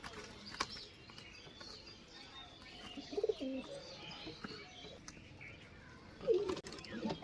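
Green Shakdam Ablook Giribaz pigeons coo softly, with two low throaty bursts against a quiet, faintly noisy background.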